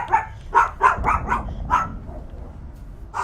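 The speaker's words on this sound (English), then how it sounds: "Sorry about the dog." A dog barks in a quick series of about six sharp yips in the first two seconds, fairly close and loud, then falls quiet before one more faint bark at the end.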